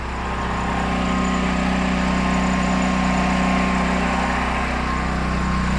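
A Duromax XP10000e portable generator engine runs steadily nearby inside a homemade enclosure, a constant droning hum with a buzzing edge and no pauses.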